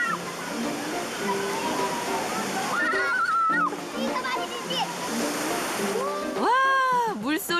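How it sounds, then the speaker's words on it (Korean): Water rushes steadily at a summer swimming spot in a mountain valley stream near a waterfall, a continuous splashing roar, while children's voices chatter and call out over it. "와, 물소리를 듣기만 했는데도 온몸이 시원해지는 것 같네요."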